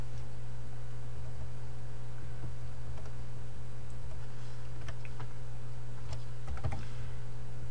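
Keys clatter on a computer keyboard while a search is typed into business query software: irregular light clicks in short bursts over a steady low electrical hum, with no one speaking.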